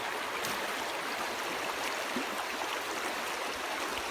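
A woodland river runs steadily at a shallow crossing, giving an even, continuous wash of flowing water close by with no voices.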